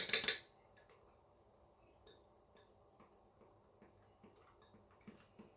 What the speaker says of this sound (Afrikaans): Ek gaan sommer 'n virkie vat om dit te meng